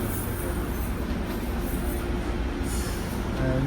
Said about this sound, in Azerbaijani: Və bir 2 mərtəbəli metro gəlir.